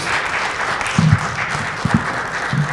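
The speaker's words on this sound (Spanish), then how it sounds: "Fuerte el aplauso al Rey" A church congregation applauds after worship, a broad continuous wash of clapping from many hands, fairly loud and sustained, with a few low thumps and faint voices underneath.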